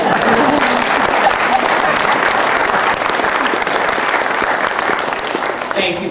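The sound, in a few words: audience applause at commencement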